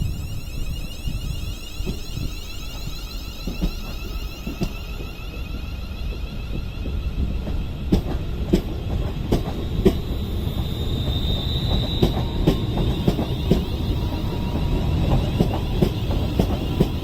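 A London Northwestern Railway passenger train pulls out of Crewe station on the West Coast Main Line, a low rumbling engine and wheel roar building gradually, with rhythmic clicks over rail joints and a faint wheel squeal as it gathers speed nearby.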